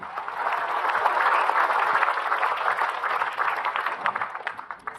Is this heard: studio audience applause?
yes